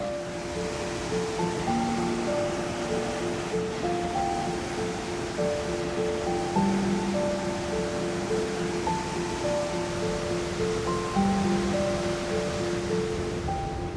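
Vernal Falls in Yosemite pours down its cliff, a steady, dense roar of cascading water and blowing mist that stays loud and unbroken throughout, with faint tonal chirps scattered over the wash.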